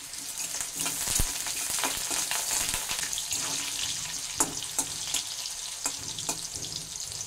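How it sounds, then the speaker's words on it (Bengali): Dense, crackling sizzle of potatoes frying in hot oil, steady and close, with occasional stirring clicks; no talking. "এবার এই আলুগুলো আমি হালকা লাল করে ভেজে নেব।"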